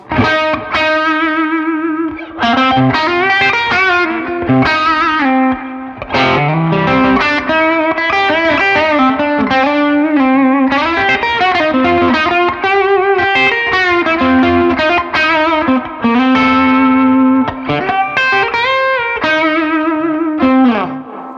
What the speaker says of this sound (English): I'm just going to roll the tone back off on the bridge pickup